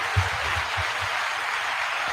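A small podcast group gives a round of applause, a steady wash of clapping hands with a few low thumps, moderately close and without talk.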